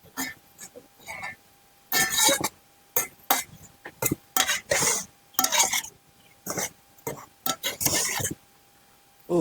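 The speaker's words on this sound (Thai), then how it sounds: "แล้วก็ใส่มะกอก ก็คนนี่" Olives stirred into a shellfish dish, with a utensil clinking and scraping against the pot in short irregular bursts, close and distinct, while a person talks.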